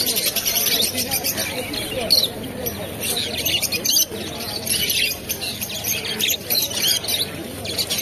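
Caged pet birds such as conures, lovebirds and cockatiels at a busy pet market, chirping and squawking in overlapping bursts under crowd chatter and voices nearby.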